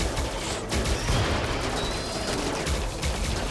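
Dense gunfire rattles nonstop in RimWorld combat, a loud, continuous barrage of overlapping shots with no pauses.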